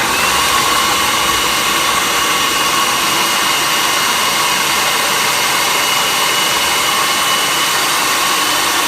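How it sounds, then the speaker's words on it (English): A falafel mixture is blended under a lid, giving a loud, continuous whirring motor roar that holds steady without a break. "Get our top and whisk away."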